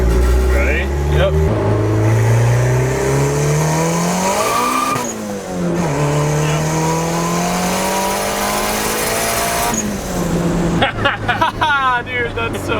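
A fully built turbocharged Honda Civic accelerates hard through the gears, its engine screaming upward in loud sweeps broken by quick shifts, with people talking over the roar inside the car.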